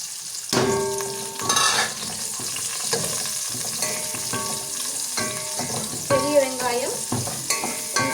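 Large onions frying in a pan for a Tamil lunch dish, a steady close sizzle with scraping stirs, partly overlaid by tonal music, with no one speaking.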